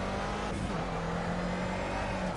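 Race car engine in the Project CARS video game, holding a steady, droning rev at moderate loudness with a slight pitch shift midway.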